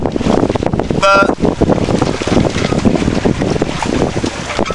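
Strong wind buffets a small sailboat at sea in the Bristol Channel, roaring and gusting loudly against the microphone with water rushing beneath, plus a brief high tonal whine early on.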